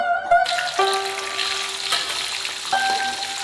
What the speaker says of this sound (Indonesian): Kita goreng kacangnya